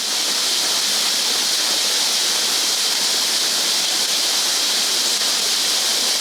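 A steady, dense rush of falling water from a waterfall, loud and unbroken, with no other sounds over it, used as a backdrop for a breathing meditation.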